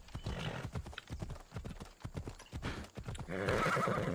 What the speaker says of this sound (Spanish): Parece un caballo resistente.